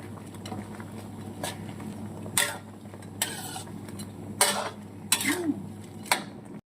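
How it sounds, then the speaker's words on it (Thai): Ingredients being stirred in a cooking pot after tamarind water is added, with a low simmering bubble under scattered clinks and scrapes of a utensil against the pot, close and moderately quiet. "คนส่วนผสมทุกอย่างให้เข้ากัน"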